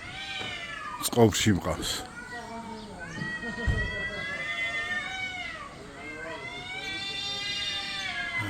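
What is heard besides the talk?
cat meowing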